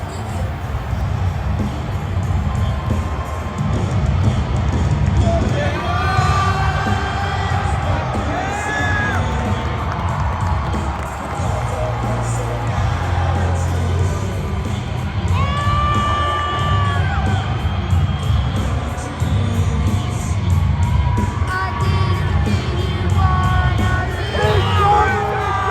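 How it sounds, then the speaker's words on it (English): A large WWE Monday Night Raw arena crowd cheers CM Punk with a sustained roar, whoops and yells near and loud for about 25 seconds, and scattered voices stand out above the din. "CM Punk came out, and the crowd was really loving it"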